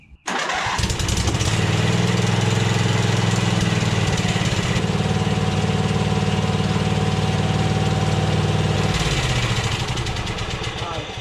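A swapped-in engine on a John Deere Z425 riding lawn mower runs at a steady, loud idle for about ten seconds, a continuous close-up drone that eases off near the end.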